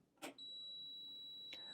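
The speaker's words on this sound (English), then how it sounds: "So that's going to be a constant beep telling you that you're out of water." An espresso machine out of water sounds a steady high electronic warning beep that starts after a short click and holds continuously, with a second faint click near the end.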